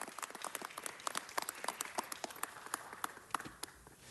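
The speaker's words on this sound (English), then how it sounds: "Let's give a big warm round of applause to Jose Alfredo Jimenez Jr." An audience at a Los Angeles city council meeting applauds for Jose Alfredo Jimenez Jr., a steady patter of many hands clapping close by for about four seconds with no voices over it.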